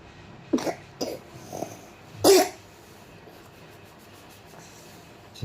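A young child coughing after waking up while ill, a few scattered dry coughs with one louder harsher cough, heard close in a quiet room.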